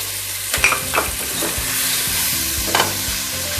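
Shrimp sizzles steadily in a hot pan as turmeric, chili and coriander powder go in. A spoon clatters and scrapes against the pan a few times over the constant frying hiss, close up and with no voices.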